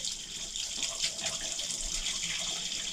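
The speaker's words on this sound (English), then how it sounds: "Rinse all the paint out as much as you can." A paint brush is rinsed under a running tap into a sink, giving a steady, close hiss of flowing water with faint splashing as bristles are worked through the stream, with no voices.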